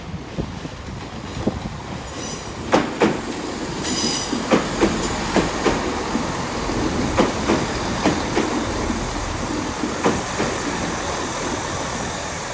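Class 166 Turbo diesel unit rolling through Exeter St Davids station, its wheels clacking over rail joints in a steady rhythm with occasional high squeals, close and continuous throughout.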